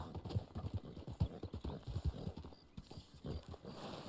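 Horse hooves clip-clop in a quick, repeated rhythm in the video game Red Dead Online, fairly close and steady, with some low rumbling underneath.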